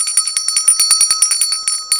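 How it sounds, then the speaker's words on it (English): A small metal hand bell rings rapidly and steadily for two seconds, bright high-pitched jingling strikes close by with no talking. "A nice little bell that has a nice little sound."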